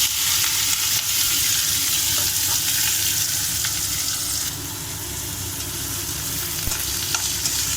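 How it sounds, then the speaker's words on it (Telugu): Onions and curry leaves fry with cumin in hot oil, a loud, dense, continuous sizzle that eases slightly midway, with faint stirring beneath. "జీలకర్ర అవి చిట్పటలాడాక ఈ ఆనియన్స్, కరివేపాకు వేసుకున్నాము"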